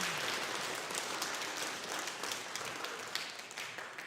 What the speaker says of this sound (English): We want to clap for you.